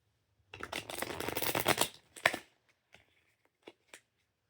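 A deck of playing cards is shuffled close by in one long, dense riffle lasting over a second, followed by a sharp snap and a few faint, scattered taps of the cards settling.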